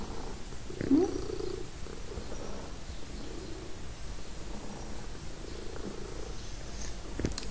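A cat purrs steadily and softly close by for several seconds, a low continuous rumble with a brief louder moment near the start and faint background noise.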